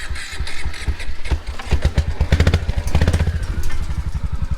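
An older four-wheeler with an automatic transmission and a broken drivetrain runs loud and close, its engine throbbing in a rapid, uneven rhythmic chug throughout.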